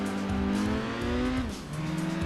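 An MGF race car in Gran Turismo 2 revs hard through a manufacturer challenge race on the reverse Grindelwald course, its engine note climbing and dropping with gear changes and a hint of tire squeal, loud and continuous.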